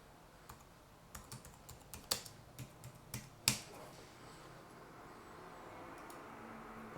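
Someone types on a computer keyboard while entering job details, producing a handful of scattered, fairly quiet key clicks with a couple of sharper taps, set against a low background hum.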